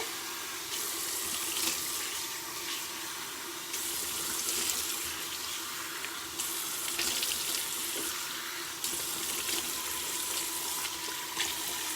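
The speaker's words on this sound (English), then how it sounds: "Rinse out my brush and my face, still with warm water." Faucet runs warm water steadily into a sink while a brush and face are rinsed, a continuous close hiss with small splashy shifts as hands move through the stream.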